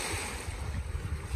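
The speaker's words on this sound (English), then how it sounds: "it's very windy." Strong wind buffets the microphone with low rumbling gusts, steady and close, with a faint watery wash in the background.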